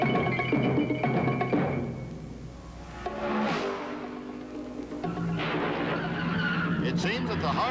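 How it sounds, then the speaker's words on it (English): A Novi race car engine at the 1965 Indianapolis 500 roars and fades with shifting pitch, tires squealing as it passes, while a voice talks over the noise. "the powerful song of the Novi engine is heard"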